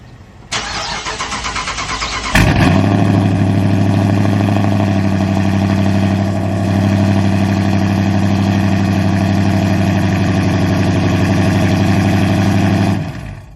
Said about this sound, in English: we might as well go ahead and get a cold start